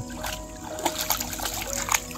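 A village river running full after heavy rain, its water splashing and gurgling nearby in a steady, choppy wash with small bursts of splatter, no voices.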